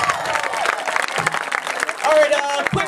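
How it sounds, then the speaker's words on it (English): A crowd applauds a performer at the 2008 Champoeg Gong Show, scattered claps mixed with cheering and voices talking over them, loud and close throughout. "Everybody give Soup a round of applause"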